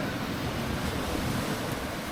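Ocean waves wash continuously on the beach at Koh Samed, a dense, steady roar of surf with wind noise and no voices.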